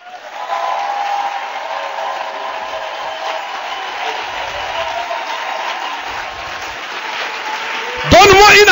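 A church congregation applauding and cheering, a broad continuous roar of clapping and voices that holds steady for several seconds before a sharper burst of sound at the very end.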